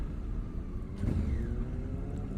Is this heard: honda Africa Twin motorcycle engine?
yes